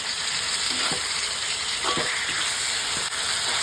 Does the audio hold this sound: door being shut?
no